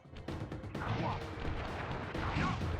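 Flame Foo firework attack in the Sly Cooper video game: a rapid string of sharp bursts and crackling blasts, then a dense, sustained roar of explosions.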